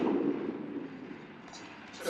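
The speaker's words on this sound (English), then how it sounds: "it's another beautiful sequence of explosions as this island goes up in smoke" Continuous rumbling explosions from a puppet-series island base going up in smoke, a dense low roar fading slightly before a small burst at the end, with no speech.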